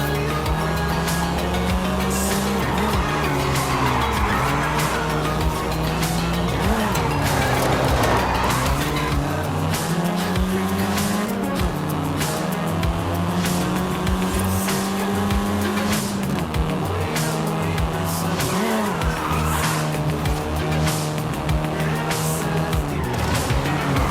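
A car in Forza Horizon 5 drives hard with a loud, sustained engine drone that rises and falls with the gears, while tires squeal and skid repeatedly through the corners.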